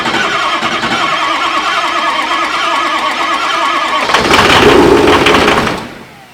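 Car engine cranking, catching and running rough with a little throttle, a loud, ragged, uneven roar that surges briefly before dying away.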